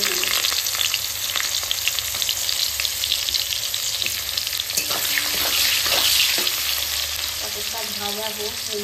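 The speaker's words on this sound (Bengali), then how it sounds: "এবার আমি পটলটা ভেজে নেব।" Pointed gourd (potol) frying in hot oil makes a loud, dense sizzle close by, with occasional scraping stirs through the steady crackle and no talking.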